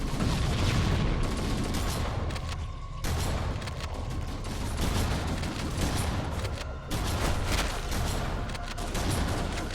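Halo: Combat Evolved battle with a grenade blast and gunfire, heard as continuous dense explosive and weapon noise across the whole clip, loud and unbroken apart from brief dips.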